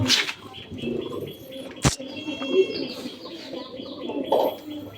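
Pigeons coo repeatedly in a loft, soft throaty calls close by with scattered chirps and a brief flutter of wings, over a low room hum.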